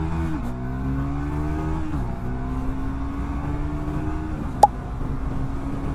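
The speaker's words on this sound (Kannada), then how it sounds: "ಎಷ್ಟು ಸಿ 0 to 100 ಎಷ್ಟು ಸೆಕೆಂಡ್ಸ್ ಅಲ್ಲಿ ರೀಚ್ ಆಗುತ್ತೆ" Triumph Tracker 400 motorcycle accelerating hard from a standstill, the single-cylinder engine climbing in pitch through several quick gear shifts, loud and close with no talking.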